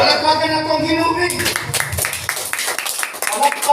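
A church congregation at a Thanksgiving Day service in Duero, Bohol breaks into clapping, a dense run of overlapping claps that follows a short stretch of sustained tonal voice or music.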